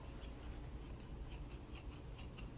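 Scissors held upright snipping through side-swept bangs, a soft, fairly faint series of quick crisp snips and rubbing strand sounds, steady and alone without talk.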